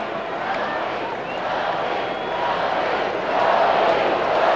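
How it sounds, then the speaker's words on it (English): Broad, steady crowd murmur fills a baseball stadium during the sixth inning of a Yankees vs. Mariners game at Yankee Stadium in 1998, swelling slightly louder toward the end with no distinct cheers. "Crowd getting a little more lively now that the Mariners have put a couple of runs on the board"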